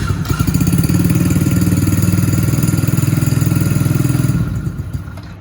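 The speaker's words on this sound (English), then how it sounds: "We just need to give it a little bit of gas, just enough once it starts to keep it running." A Dirt Kicker XV110 110cc fully automatic dirt bike engine runs just after starting, a loud close rapid chugging putter held steady on light throttle before easing off and fading at the end.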